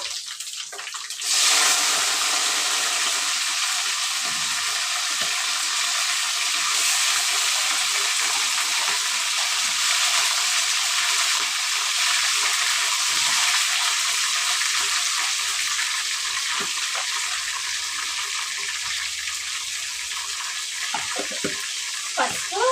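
Washed raw chicken hits hot oil in a pan, setting off a loud, sudden sizzle after a short quiet start, then a long, steady hissing fry with faint stirring clinks underneath.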